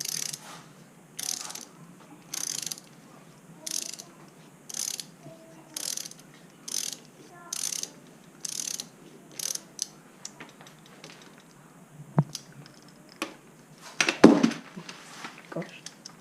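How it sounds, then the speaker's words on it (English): Ratchet driving a 6mm Allen key to tighten a BMX crank bolt: a regular series of about a dozen close clicking bursts, evenly spaced, then a few scattered clicks and knocks as it stops. "And then you tighten it with a 6mm Allen key."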